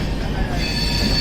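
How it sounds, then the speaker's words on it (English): Local trains passing slowly on an Indian rail line, a brief close rumble with metallic wheel squeal and steady rolling noise. "these are some local trains going not very far but very slow."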